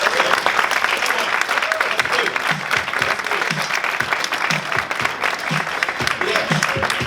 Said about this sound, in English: give Leslie Zinn, the CEO of Arden Garden, a warm round of applause as we bring her up